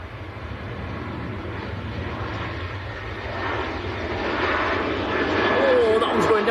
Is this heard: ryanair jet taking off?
yes